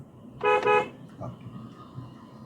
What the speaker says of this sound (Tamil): one more horn